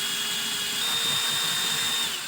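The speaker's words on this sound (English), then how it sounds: "we're just going to take this drill and start at the bottom and go real slow" A power drill whirs steadily at close range for a couple of seconds, with a churning, sloshing undertone as it stirs homemade laundry detergent with water.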